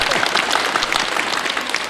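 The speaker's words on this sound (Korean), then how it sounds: "여러분 박수를 부탁하겠습니다." An audience applauds at a Korean children's event honoring the songwriter Yun Geuk-yeong and his wife, producing dense, continuous clapping from many hands that is fairly close and even throughout.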